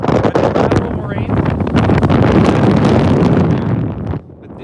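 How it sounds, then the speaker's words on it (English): Strong katabatic wind sweeping down a glacier beside a lateral moraine, a loud, continuous roaring buffet against the microphone that holds steady for several seconds before easing slightly near the end. "this is what a proper glacial Katabatic wind"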